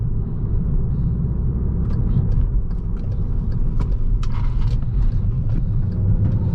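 A 2016 VW Jetta GLI with a 6-speed manual gearbox accelerates on the road, heard from inside as a steady, loud, low engine rumble with road noise.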